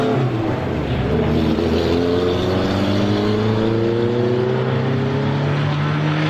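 Roadrunner-class race cars at Star Speedway roar at a restart, a loud sustained engine drone whose pitch climbs steadily as the cars accelerate, with no talk.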